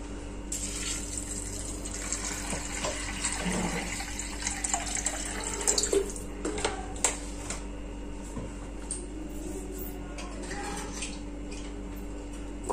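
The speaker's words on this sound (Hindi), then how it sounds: "अब इसमें डाल देते हैं पानी।" Water poured steadily into a pressure cooker holding dal seasoned with salt and a little oil, prepared for dal dhokli; a continuous splashing, filling stream runs throughout with no talking.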